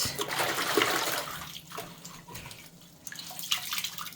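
Cold tap water runs steadily over new clothes being rinsed by hand, a continuous close splashing rush that dips briefly midway and then surges back.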